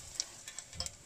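Garam masala spices sizzle in hot olive oil in a heated pot, a faint, light crackle broken by a few soft ticks, heard alone without talk.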